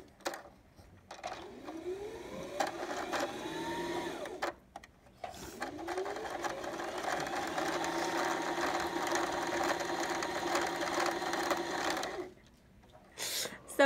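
A domestic sewing machine run by foot pedal winds thread onto its bobbin with a steady motor whine that rises in pitch, halts briefly, then spins again for several seconds before stopping, close and clear.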